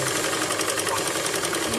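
A sewing machine stitching falls onto a saree makes a steady, loud, close mechanical whir with fast regular needle chatter, alone without talking.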